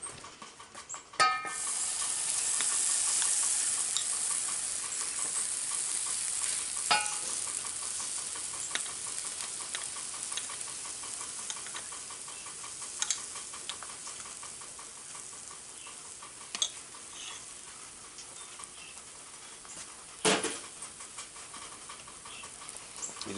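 Pancakes cooking in freshly re-seasoned cast iron pans, an old Lodge pan and an antique Century Series BSR, give a steady soft sizzle throughout, with a few faint clicks and one sharp tap near the end.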